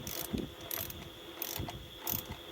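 A torque wrench ratchets as it tightens the intake manifold bolts on a 2012 Dodge Durango's 3.6-litre V6, giving several short bursts of close, crisp clicking separated by brief pauses.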